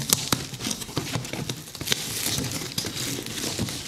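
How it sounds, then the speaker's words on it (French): Parcel packaging crinkles and rustles as a Panini comics Ultimate Universe package is unboxed, with a steady run of crackling handling sounds and sharp crisp snaps throughout, close by and with no talking. "j'ai le colis ici, je vais le déballer en même temps que vous"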